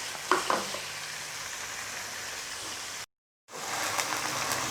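Crushed ginger and garlic fry with chicken for chicken korma in a pan, a steady close hissing sizzle with a few light stirring clicks, briefly cut by a moment of total silence before the sizzle resumes.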